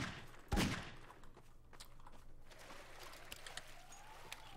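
A magnum revolver fires in the Garry's Mod video game on the Uptown V4 map: one loud, sharp report near the start, followed by fainter clicks and thuds over a steady low game hum, with no talking.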